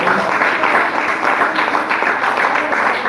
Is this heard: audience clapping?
yes